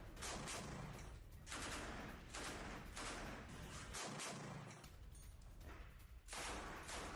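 Dense infantry gunfire in war footage, loud bursts and rattling volleys following one another almost without pause over a sustained stretch, with no talk over them.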